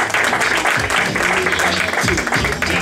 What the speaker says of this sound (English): Please give a warm round of applause for Teresa Dahlquist.